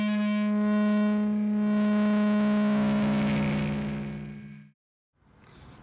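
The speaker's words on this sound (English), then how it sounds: "or you can control a distortion with your mod wheel" Distorted synth tone from the GAZE synth plugin, its distortion swept with the mod wheel, a sustained harmonic-rich note growing gritty and dense before cutting off, followed by a brief noisy burst.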